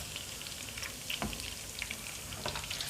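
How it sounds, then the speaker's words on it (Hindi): Cumin, whole black pepper, dried red chillies and fresh curry leaves sizzle in hot oil for a Punjabi kadhi pakora tempering, a steady close crackle with scattered sharp pops, with no one speaking. "इसको हल्का सा मैं फ्राई करूँगी।"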